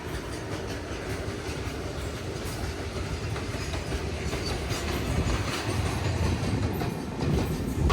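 A long freight train of about 50 to 55 wagons rumbles steadily past close by, wheels clattering over the rails in a continuous, loud roar that builds slightly toward the end.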